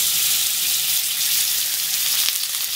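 Carrot pieces and a knob of butter sizzle steadily in a frying pan while a carrot is being glazed, a close, continuous bright hiss with no talking.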